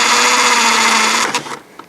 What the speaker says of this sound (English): use a drill if you have it available